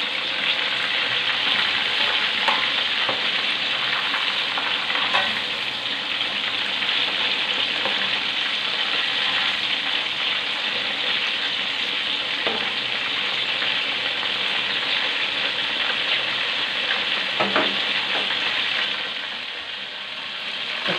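Pieces of chicken fry in hot oil for a spicy balado dish, a loud, steady sizzle that runs without a break, with occasional soft knocks as the pieces are turned and stirred in the pan.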